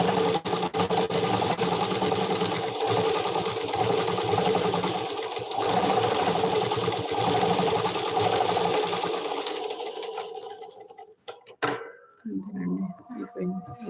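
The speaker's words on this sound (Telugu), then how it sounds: "ఇట్లా బక్రం స్టిచ్చింగ్ చేసుకుంటే స్టిఫ్గా ఉంటుంది" A sewing machine stitches buckram along the hem of a pyjama, running in a steady, loud mechanical whir for about ten seconds before stopping, followed by brief handling clatter.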